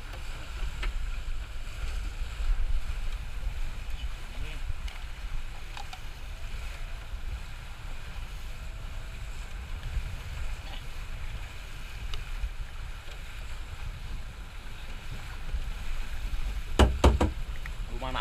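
Jukung outrigger sailing canoes race across open water in wind, a steady rushing wash of wind and water with scattered knocks and a couple of sharp clacks near the end, no speech.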